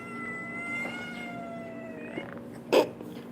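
An indoor cat meows once, a short, fairly loud cry late in the stretch, over a faint steady hum with thin tonal whines; no one talks.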